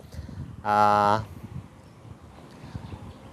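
A 23-month-old purebred grey breeding bull lets out one loud, droning moo lasting under a second, close by, amid faint outdoor farm background noise.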